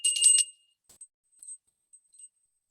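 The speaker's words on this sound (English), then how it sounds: "and I use a bell too." A small bell used in a sound healing session gives one bright, clear ring, followed by a few faint high tinkles fading into silence.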